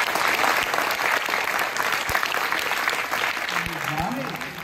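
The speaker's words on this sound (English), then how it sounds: "please give him a round of applause." Steady, loud applause from an audience at a talk to school students fills the whole stretch, a dense clatter of many hands clapping with a few faint voices underneath.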